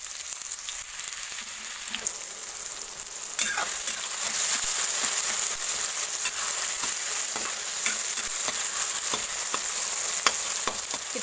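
Apple pieces sauté in a hot pan for apple halwa, giving a continuous close sizzle with scattered spoon scrapes and taps and no talking.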